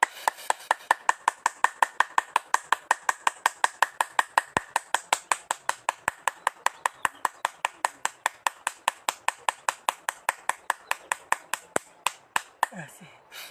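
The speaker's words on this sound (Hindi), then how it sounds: "तो इसको हमने पूरी ताली बजानी है ऐसे" Full-palm hand clapping during a yoga exercise: dozens of sharp, close claps in a fast, steady rhythm that run for several seconds and then end with a few looser claps.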